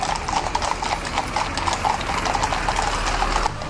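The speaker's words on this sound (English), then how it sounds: "Just having a look now at the horse guards on parade as they come riding down the mall." Mounted Horse Guards' horses riding down the Mall on parade during the changing of the guard ceremony in London, a dense, continuous clatter of many hooves on the road, close and loud with no talk.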